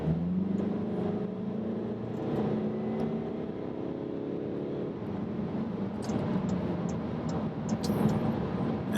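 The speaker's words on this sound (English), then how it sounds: "And how about a little wide open throttle to start our day?" A 2015 VW Golf TDI diesel pulls hard at wide open throttle, its engine note a steady, loud drone with rising harmonics that climb in pitch, then give way to a broad road and wind roar inside the cabin.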